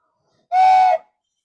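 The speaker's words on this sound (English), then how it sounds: "I got a train whistle" A single train whistle sounds alone for about half a second, a bright steady multi-tone blast with a clean start and quick cutoff against silence.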